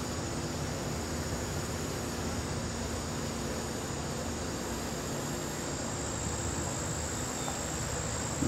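Honey bees buzz densely in front of and around their hive, a constant even drone that fills the scene without pause, close and with no talk.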